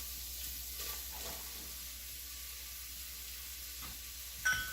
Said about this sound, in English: we want to stir them around a little bit so that they get lots of butter all over them